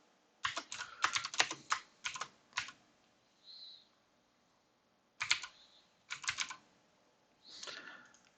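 Bursts of keyboard typing in a game chat window, quick clustered keystrokes in several separate flurries with pauses between, close and fairly quiet, with no voice over them.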